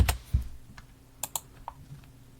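Keys on a computer keyboard are tapped in a short, uneven burst of a few close clicks and thumps, fairly quiet, with no voices.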